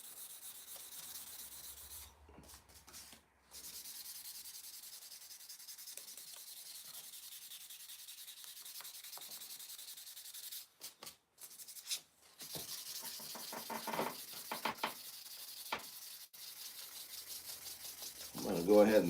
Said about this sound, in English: I'm going to go ahead and sand around this bowl